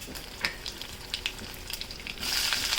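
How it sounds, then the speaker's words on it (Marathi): Garlic frying in hot oil with cumin and mustard seeds in a home kitchen, a soft continuous sizzle with small crackles that swells louder near the end, no voices. "लसूण जरा ब्राऊन कलरचा होस्तोवर परतून द्यायचा"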